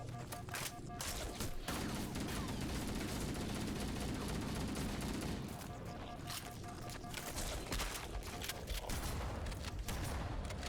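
Shotgun blasts from the video game Halo Combat Evolved come as dense, rapid bursts of loud gunfire over a constant roar of combat noise.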